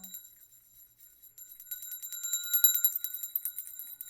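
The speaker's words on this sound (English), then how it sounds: "bells are known in many cultures to be cleansing and healing, bringing in divine energies" A bright, high-pitched bell rings out after a near-silent start, its shimmering tones swelling and sustaining with repeated strikes.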